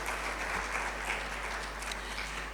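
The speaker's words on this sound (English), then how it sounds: "can we start with a big round of applause to the panel members?" Applause from an audience for panel members at a technology and skills event, a continuous wash of clapping at an even level, fairly soft and with no voices over it.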